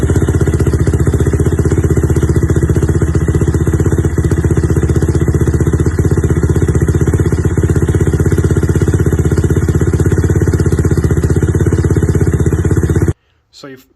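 Rebuilt Yamaha YFZ450 quad engine running at its first startup, a loud, steady, close engine drone with rapid clattering pulses that holds for about thirteen seconds, then cuts off abruptly.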